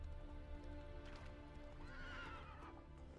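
A horse in The Witcher 3 whinnies clearly while its hooves clip-clop steadily beneath, close and fairly loud, with no talking over it.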